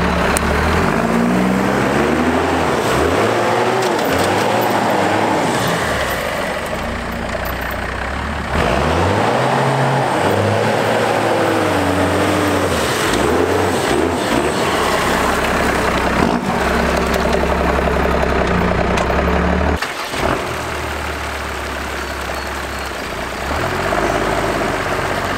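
A Cummins-powered truck crawls out of a river, its diesel engine droning loudly and close with shifting pitch as it revs and labors through the water, with no talking.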